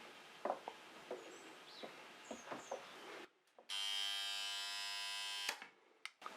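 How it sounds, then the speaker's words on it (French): Darkroom timer signalling that the time is up in an analogue film photo lab, a loud steady electronic buzz lasting about two seconds after quieter small handling noises, then abruptly cut off. "Ça, c'est un signal que le temps est écoulé."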